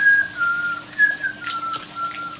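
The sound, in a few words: person imitating a loud whistle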